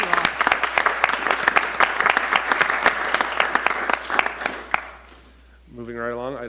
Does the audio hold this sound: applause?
yes